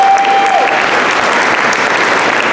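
A crowd applauds loudly and steadily throughout a school band concert, dense clapping with no pauses, close and sustained.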